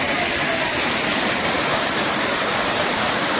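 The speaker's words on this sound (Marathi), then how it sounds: "हा आता वरून धबधबा येतो" Steady, loud roar of the Savdav waterfall near Kankavli crashing down, a dense broadband rush that stays constant throughout with no voices.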